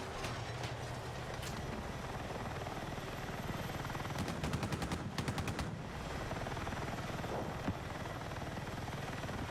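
A helicopter in a video game thumps with rapid, steady rotor chop amid a dense roar of battle noise, with a louder stretch of fast pulsing bursts in the middle.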